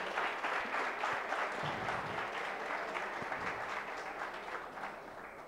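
An audience at a competition prize-giving claps continuously, a dense even wash of applause that eases slightly toward the end, with no talking over it.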